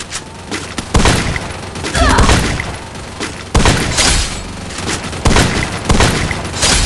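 Loud bursts of gunfire from standing up out of a crouch and shooting in Free Fire, several heavy shots and volleys at irregular intervals over steady game noise.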